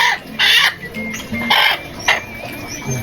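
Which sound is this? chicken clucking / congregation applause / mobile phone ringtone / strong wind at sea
chicken clucking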